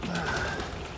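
Racing pigeons cooing in a breeding loft, one soft, low coo heard close up under a faint background hum.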